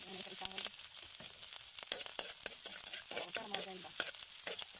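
Garlic and spices fry in hot oil for a shellfish adobo, making a quiet, crackling sizzle with bursts of stirring and utensil scrapes. No one speaks over it.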